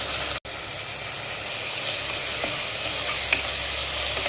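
Ginger garlic paste and tomato frying in a pan for mutton biryani: a loud, continuous sizzle, close and steady throughout, with a brief stir or clatter here and there.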